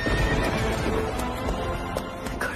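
A horse neighs loudly while its hooves clip-clop as a rider arrives on horseback, set in a historical Hindi drama. The whinny and hoofbeats are close and clear over a brief stretch.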